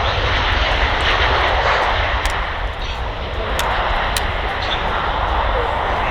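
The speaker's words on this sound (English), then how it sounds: "here's the Ryanair from Faro, Boeing 737-800" Ryanair Boeing 737-800 at Manchester Airport, a loud sustained jet engine roar that holds steady and close throughout, with faint voices underneath.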